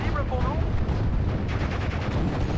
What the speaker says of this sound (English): AT gun doing work.